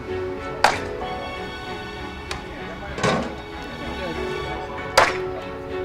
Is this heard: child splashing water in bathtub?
no